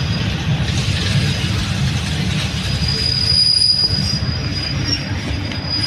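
Thai rapid train 167 runs on the railway between Thi Wang and Kantang, with a steady rolling rumble of wagons, high wheel squeals and faint clatter heard from on board.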